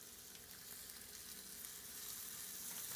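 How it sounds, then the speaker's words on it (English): Beef pieces searing in warm oil in a skillet, for a beef and mushroom pie, give a steady, dense sizzle and crackle that stays loud and even throughout, with no voices. "Now we're just going to lay the meat pieces in the warmed oil"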